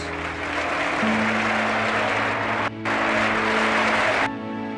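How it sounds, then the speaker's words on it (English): Enthusiastic applause from a joint session of the U.S. Congress for Corazon Aquino, a dense wash of clapping over a tonal hum, briefly cut off once, then resuming before fading at the end. "And you can hear the sustained and very enthusiastic applause."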